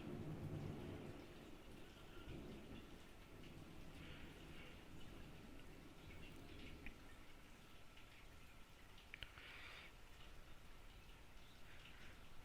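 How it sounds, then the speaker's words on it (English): Heavy rain falls steadily throughout a thunderstorm, with low rumbling thunder building in the opening seconds, a continuous wash of noise that is faint and distant and carries no speech. "Some serious lightning going on out there."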